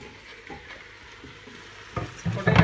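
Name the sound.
sautéing potato pieces in a pan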